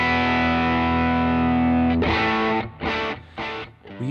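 Electric guitar through a multi-effects pedal's distortion on the neck pickup: a long sustained distorted chord rings out, then a few short chugging strums follow, loud and close with no voice.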